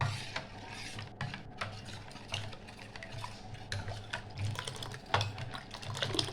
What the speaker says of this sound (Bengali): দইটা ভালো করে মেশাতে হবে